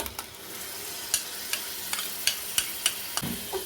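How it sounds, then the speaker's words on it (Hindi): Masala and tomato paste for chole are stirred in a pan, a soft sizzle with a regular run of spoon scrapes and taps against the metal. No one speaks. "इसे भी हम अच्छी तरह से मिक्स कर लेंगे।"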